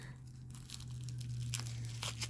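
Bubble wrap packaging from a pin haul is unwrapped close by, with soft tearing and crinkling plastic rustles over a steady low hum.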